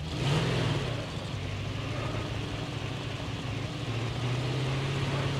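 A large vehicle driving in the mobile game Call of Duty Mobile gives a steady, droning engine hum at a constant, moderate level with no talk over it.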